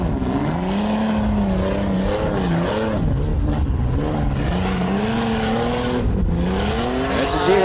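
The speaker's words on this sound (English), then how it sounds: "Do you see that wheel lock up?" A 4x4 trials truck at a competition in Feilding, New Zealand, engine revving loud and close as a wheel locks up and skids, the tyre noise rising and falling in steady surges without any talking.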